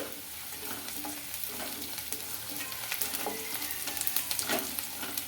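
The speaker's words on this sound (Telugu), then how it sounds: "చిన్న ముక్క దాల్చిన చిక్క అలాగే ఒక స్టార్ అయితే వేసుకుంటున్నానండి" Whole cinnamon and star anise frying in oil with onions for a middle-class style chicken curry, a soft continuous sizzle broken by stirring scrapes that grow busier toward the end.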